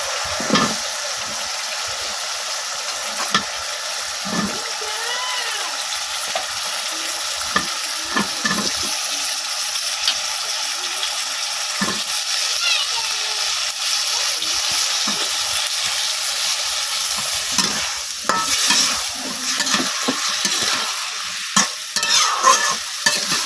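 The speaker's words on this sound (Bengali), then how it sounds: "এখন আমি দিয়ে দেন ধুয়ে রাখা ডাটাগুলা" Washed vegetable stems tossed into a spice paste frying in a pan and stirred, with a loud continuous sizzle and sputter and scraping stirring strokes throughout.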